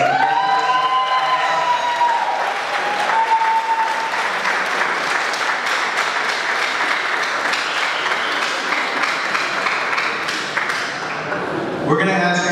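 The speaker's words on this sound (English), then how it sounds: "We're going to ask everyone to hold their applause to the end" Audience applause at a candidates forum in Seattle, steady dense clapping with some cheering sustained for about ten seconds, with a tonal ping early on before it fades.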